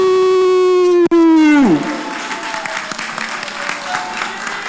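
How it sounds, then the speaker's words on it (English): At a fighting game tournament, a loud sustained tone slides downward and cuts off, followed by steady crowd applause and cheering that carries on to the end. "Big round of applause for the top 8."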